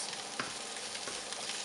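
Rice with chorizo and peppers sizzles in a frying pan as it is stirred, with a steady close hiss and faint scraping touches throughout.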